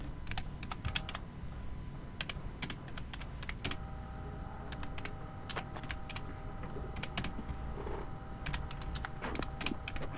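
Quiet, steady typing on a computer keyboard with irregular key clicks throughout, heard over a low background hum.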